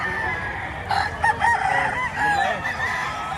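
A rooster crows at a chicken sale in Batangas, one drawn-out call rising over a busy, noisy market with crowd murmur, moderately near.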